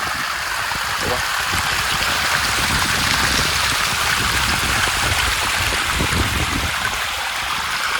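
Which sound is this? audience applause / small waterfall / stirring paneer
small waterfall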